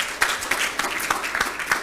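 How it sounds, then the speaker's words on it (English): An audience claps in a live setting, giving brisk, close applause with distinct individual hand claps standing out over a steady wash of clapping, with no talking. "I feel like clapping."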